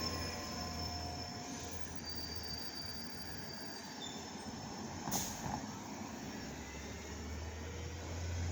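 A train moves slowly through the Takoma Park station in the District of Columbia, its wheels squealing in thin, sustained high whines over a steady low rumble, with a brief louder clank midway.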